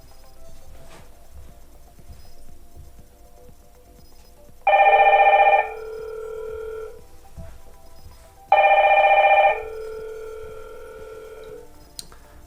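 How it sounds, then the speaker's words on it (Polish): A Hikvision DS-KH6320-WTE2 video intercom call rings a phone twice, each ring a bright electronic tone burst about a second long, followed by a softer lingering tone, with quiet pauses between and no talk. "Telefon, jak widać, dzwoni."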